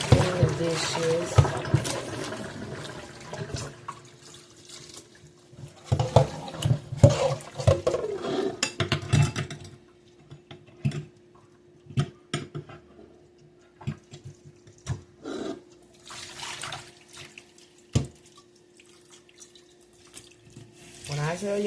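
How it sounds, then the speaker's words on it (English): Hot tap water runs into a kitchen sink while dishes are washed by hand, with splashing, clinks and trickling in irregular bursts and some quieter gaps. "I am cleaning the dishes."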